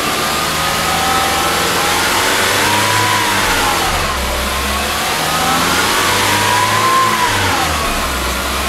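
A Mazda CX-9 with a 2.5 turbo engine revs up close by in several rising and falling sweeps to around 3,000 rpm, loud and steady, over a continuous idle drone.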